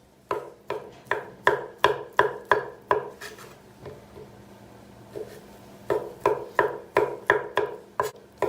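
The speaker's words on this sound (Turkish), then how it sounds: "Bunları ince doğrayacağız." A knife chops chicken livers finely on a board in a home kitchen, giving steady rhythmic close knocks in two bursts separated by a brief pause.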